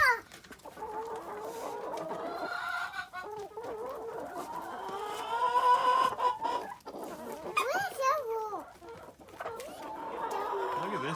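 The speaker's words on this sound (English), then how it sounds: "This is an Australorp cross rooster." An Australorp cross rooster and hens cluck close by, with repeated throaty calls and squawks in an uneven rhythm that continues throughout.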